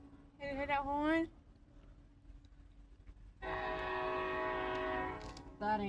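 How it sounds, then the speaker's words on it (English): A train horn sounds from a distant train near a rail switch where a high railer works, a long steady multi-tone blast of about two seconds followed by a brief second toot, after an earlier short rising call, over outdoor background noise. "Did you hear that horn?"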